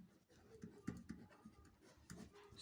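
Faint scratchy strokes of writing during a math lesson on cones, a few quick bursts of marks close by, quiet and with no talking.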